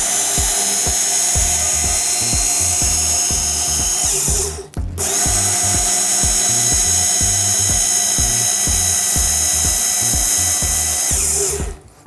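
A knife is sharpened on a running belt grinder, giving a loud, steady motor whine with rapid rhythmic grinding pulses underneath. The noise cuts out briefly partway through, then resumes, with no talk.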